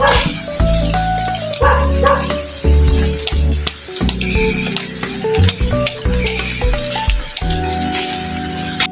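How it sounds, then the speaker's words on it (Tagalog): Dog barking at visitors outside a house, several loud sharp barks scattered through a noisy stretch with rustling and movement, some barks close and others farther off. "habol tayo ng aso"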